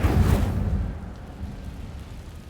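The Incendio fire spell is cast in Hogwarts Legacy inside a cave, producing a short roaring whoosh of flame that peaks at once and then fades into a low, fading crackle.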